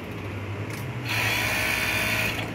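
A Juki MO-6816D two-needle five-thread overlock sewing machine runs at high speed, giving a steady whirring hum with a high mechanical whine that rises partway through, heard close and alone.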